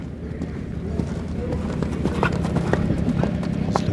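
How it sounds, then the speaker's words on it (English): Hooves of an eventing horse on a cross-country course at horse trials at Blair Castle, Scotland, drum in a quick bouncing rhythm at close range, with a commentator talking over the hoofbeats. "this horse really bouncing along"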